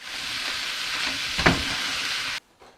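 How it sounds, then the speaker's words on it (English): Canned tomatoes hit a hot pan of cooking nopales and sizzle loudly in a steady frying hiss, with a brief sharper splash partway through, then cut off abruptly. "I'm going to throw in the tomatoes."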